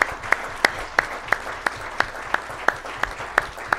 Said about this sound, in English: give you a round of applause and celebrate you